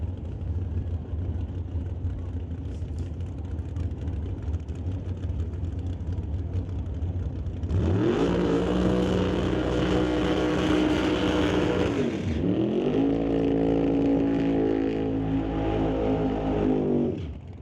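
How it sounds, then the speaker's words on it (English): Drag racing cars, a 1970 Camaro and a 1967 Shelby Mustang with a big block Chevy, roar through smoky burnouts at the racetrack. A steady engine rumble rises into two long, loud revving bursts. "So the two smoky burnouts on either side of the racetrack"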